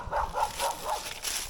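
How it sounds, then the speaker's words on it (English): A neighbor's dog gives four quick barks in a steady run, heard from a distance in a backyard over outdoor background noise. "Neighbor's dog."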